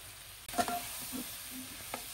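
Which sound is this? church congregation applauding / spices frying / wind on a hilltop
spices frying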